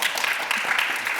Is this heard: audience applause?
yes